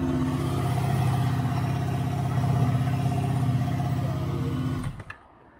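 A Honda VFR800 motorcycle engine runs at a steady rumble with a slight swell as the throttle is blipped, then cuts off abruptly near the end, leaving near silence.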